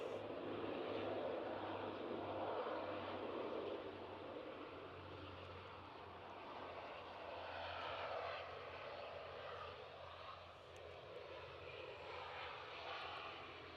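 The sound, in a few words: Emerald Airlines ATR 72 turboprop aircraft engines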